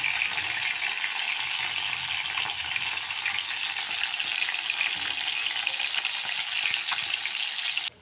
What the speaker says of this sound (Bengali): তাই দিয়ে মাছটা তেলে ভেজে নিচ্ছি।